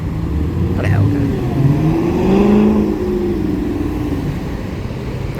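Dodge Hellcat engine revving in city traffic alongside a Camaro, a loud, steady throaty roar that swells and falls over several seconds with a voice speaking over it.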